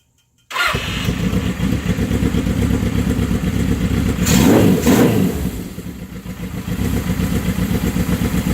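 A 1979 Suzuki GS750 motorcycle, unrun for a year, cranks and catches after a short silence, then idles steadily and loud up close, with a brief rise in revs midway before settling back to a rough idle.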